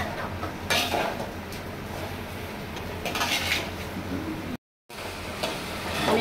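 A salted potato mixture for aloo bouya is stir-fried in a pan, with a spatula scraping and clinking against the metal in irregular strokes over a soft sizzle. The sound cuts out briefly partway through.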